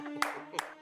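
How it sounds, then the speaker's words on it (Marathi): Brief clapping in honour of a mother, a few claps ringing out at close range over a steady background tone, lasting under a second. "अगं बाई, आईसाठी टाळ्या."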